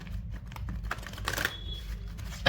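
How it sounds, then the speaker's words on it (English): A deck of tarot cards is shuffled by hand close up. The papery riffling and flicking runs steadily through the clip, with soft tapping and rustling in a quiet room. "One more shuffle."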